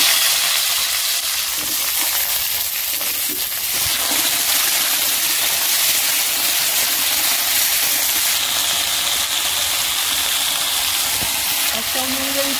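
Drumstick pieces and potatoes fry in oil in a wok with bay leaf, dried chilli and five-spice tempering, a loud, steady hissing sizzle that stays continuous throughout.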